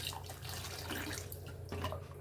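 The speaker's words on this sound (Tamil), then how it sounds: "தண்ணி ஊற்றிடலாம்." Water splashes and trickles steadily into a cooking pot, a continuous liquid pour with faint dripping sounds, moderately close and without voices.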